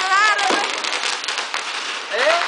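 Fireworks and firecrackers crackle and pop at a Christmas gathering, a dense continuous crackling bed with whistling rockets rising near the start and end, while people talk and shout close by.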